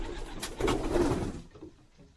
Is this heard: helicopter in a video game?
no